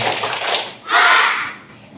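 Children in a classroom clap in a chant: a couple of quick, close bursts of hand claps, with a brief pause between them.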